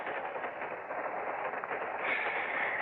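Steady rumbling and rattling inside a moving train, a continuous broad roar with no voices, staged as a radio drama effect.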